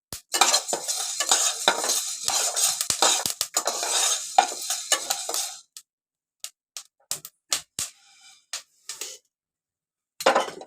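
Malvani masala spices dry-roasted in a pan, a spatula stirring and scraping in a busy, close, steady rhythm for about five seconds, then only a few scattered clinks and scrapes separated by silence.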